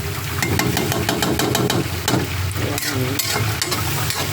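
Cabbage and ground beef sautéing in a pan, a steady loud sizzle and crackle close up with scraping stirring strokes throughout and no talk.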